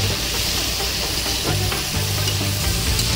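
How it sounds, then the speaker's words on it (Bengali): Bitter gourd pieces fry in oil in a pan over medium heat, giving a steady, close sizzle with faint stirring scrapes throughout. "এইভাবে 5 মিনিট আমি মিডিয়াম আঁচে ভেজে নেব। আমার করলাটা কিন্তু সুন্দরভাবে ভাজা হয়ে গেছে।"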